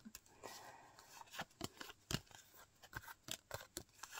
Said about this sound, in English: I think it's best if I do a bit of shuffling on camera.